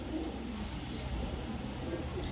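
An old racing pigeon coos softly, low and muffled against a steady background noise.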